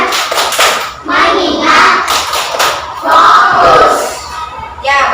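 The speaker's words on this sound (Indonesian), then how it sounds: "Tepuk 5, Tepuk fokus" A class of children performs a 'tepuk fokus' clapping routine, loud crowd chanting and shouting mixed with bursts of clapping in a classroom, voices dominating throughout.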